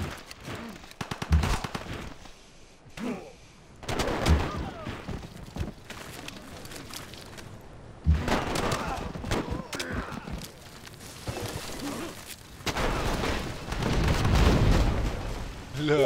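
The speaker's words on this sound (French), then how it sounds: "ça se tire dessus dans tous les sens" A Civilization V battle brings booming explosions and bursts of gunfire in repeated heavy waves. Someone talks over the fighting throughout.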